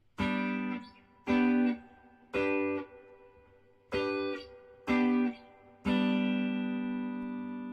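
Guitar chords strummed one after another, six distinct strikes alternating between two chord inversions, each ringing briefly, the last left to sustain.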